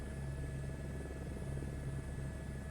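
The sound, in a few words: plane or helicopter flying in Microsoft Flight Simulator 2024 video game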